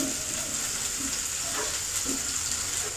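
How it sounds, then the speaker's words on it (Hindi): Pointed gourd (parwal) frying in a pan while being stirred, a steady close sizzle with occasional soft scraping of the spoon, no talking. "तो चलाते हुए परवल को अच्छी तरह से फ्राई कर लेते हैं।"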